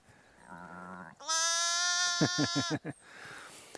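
Sheep bleat loudly and close by on a spring farm at 59 degrees north, one long wavering call followed by a few short stuttering bleats, after a faint stretch of talk.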